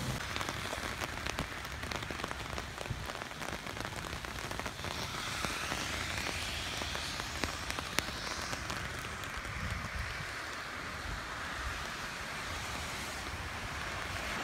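Steady rain pours down continuously in Duluth, a dense hiss of drops hitting surfaces, with faint wind and no voices.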